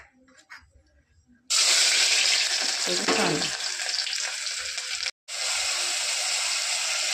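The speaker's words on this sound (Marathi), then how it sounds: "आता आपण फोडणी घालूत" A sudden loud sizzle as tempering spices hit hot oil for chicken curry, then a sustained crackling fry that briefly cuts out before resuming.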